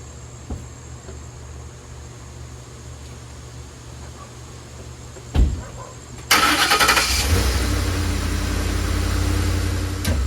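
A Ford F-150 pickup truck engine cranks and catches at close range, then settles into a loud, steady idle that continues to the end.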